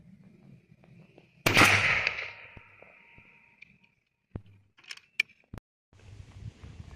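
A single loud blast from an F.A.I.R SLX-800 shotgun firing a 32-gram 0000 buckshot shell with an external choke booms nearby and rings out, followed by a few faint clicks and handling noises.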